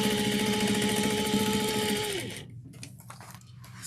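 A sewing machine runs steadily at close range, stitching a tote bag seam in one continuous loud whirring burst that winds down after about two seconds, followed by faint clicks and handling noise.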